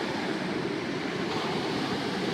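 Steady ocean surf washing onto Arugam Bay beach, a continuous broadband roar with some wind noise, fairly loud and unbroken, with no voices.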